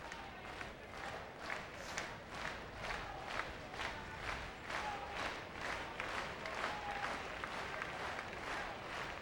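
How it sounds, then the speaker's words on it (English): Noisy afternoon crowd at a curling match in a civic center, clapping and cheering in steady rhythmic bursts that swell and fade, heard from a distance at a faint level. "Thursday afternoon crowd here at the Civic Center"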